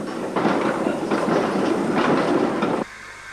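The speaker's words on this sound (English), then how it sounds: "The train returns to Headcorn." A heritage train on the Kent and East Sussex Railway rolls past with a steady rumble and rhythmic clickety-clack of wheels, fairly loud and close, then drops away suddenly.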